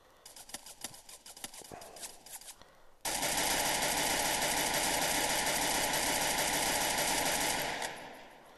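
Gunfire in the mobile battle royale game Free Fire, first sparse rapid shots and then a sustained, loud, continuous burst of automatic fire that cuts off abruptly near the end.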